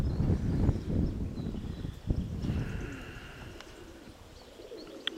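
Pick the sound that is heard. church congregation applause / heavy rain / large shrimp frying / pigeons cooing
pigeons cooing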